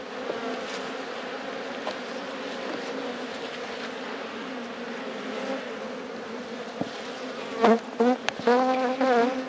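Honeybees swarm around an opened hive during a spring inspection, a dense close buzzing drone throughout, with individual bees zipping loudly past near the end.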